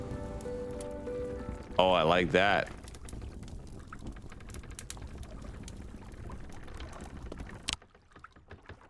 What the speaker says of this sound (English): Oh, you can hear the water now around me.